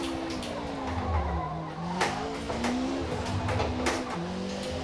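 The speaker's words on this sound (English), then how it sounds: "the 1990 Nissan Pulsar Gti-R, one of my most favourite cars from Gran Turismo 2" A 1990 Nissan Pulsar GTI-R in Gran Turismo 2 revs and shifts through steady engine pulls, its pitch rising and dropping with each gear change, with brief tyre squeals along the way, close and fairly quiet, no talking.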